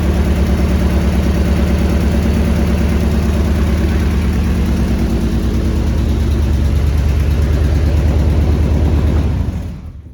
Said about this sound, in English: Nice quiet 200 block Cosy, YB engine